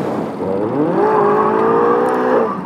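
A tuned Peugeot 207 with a CF 250 SR and Pulsar RS 200 setup accelerates hard in a rolling drag test, its engine note climbing steadily and loud, close and continuous, without speech.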